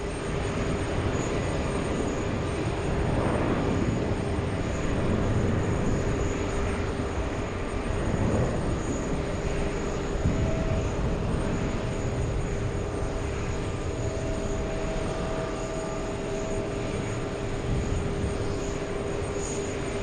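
A JetBlue airliner at JFK airport gives a steady, continuous engine rumble and roar that holds at an even level for the whole stretch, with no voices over it.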